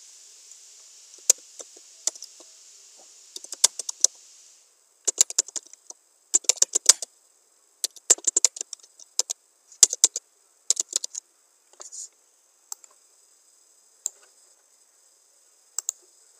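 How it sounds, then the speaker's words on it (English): Computer keyboard typing in Microsoft Word, heard as crisp, close key clicks in irregular bursts separated by short pauses over a quiet background. "You can type anything."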